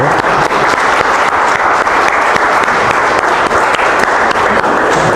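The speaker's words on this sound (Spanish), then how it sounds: "yo pido un aplauso para ella, que quede registrado" Steady, loud applause from an audience fills the room at an anniversary talk event, a dense continuous patter of many hands clapping without letup and no speech above it.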